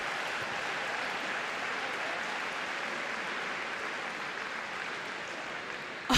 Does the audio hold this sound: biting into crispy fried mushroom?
no